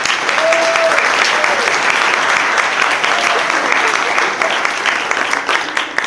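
Wedding guests applaud at an evening reception, a dense, sustained burst of clapping that stays loud throughout, with a brief whistle near the start.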